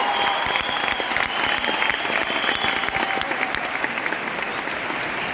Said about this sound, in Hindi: इसलिए ब्रॉन्ज डायरेक्टर्स के लिए बहुत ज्यादा ताली।